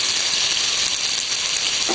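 Rice tipped into a hot pan of absorbed tomato pulp for risotto, giving a loud, dense, continuous sizzle close up with no talk over it.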